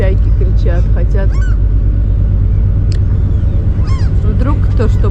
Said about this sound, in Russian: Да, чайки кричат, хотят.